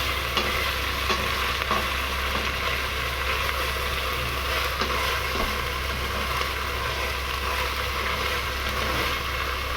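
Chicken curry with yogurt being stirred in a hot pan, a steady sizzle of frying with scraping and mixing sounds running continuously and fairly loud throughout.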